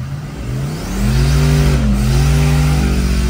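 A car engine idles, then rises into a loud, sustained rev that holds steady, close by, with the foot on the brake in second gear.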